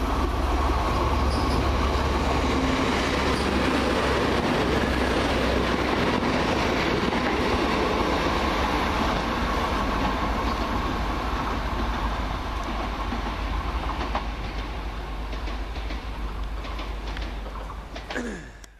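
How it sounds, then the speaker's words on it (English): A Class 185 passenger train from Manchester Airport to Cleethorpes arrives at Hazel Grove station, rumbling in close and loud, wheels clattering steadily with a faint squeal, the noise easing slightly as it slows near the end. "And here comes the Cleethorpes train from Manchester Airport"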